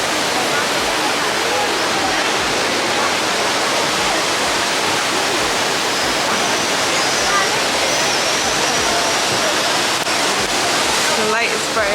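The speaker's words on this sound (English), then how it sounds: "Made it to the Trevi Fountain." Trevi Fountain in Rome, its water pouring and splashing in a steady, loud wash of broadband rush throughout, with a brief faint rattle near the end.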